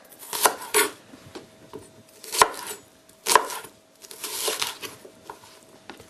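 A knife chopping bell peppers on a cutting board for a pepper and shrimp pie, with several sharp, close cuts in uneven bursts separated by quieter pauses, and no talk.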